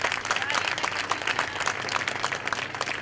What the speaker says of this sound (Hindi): आप जब ताली बजाएंगे तो बच्चों का प्रोत्साहन बढ़ता है।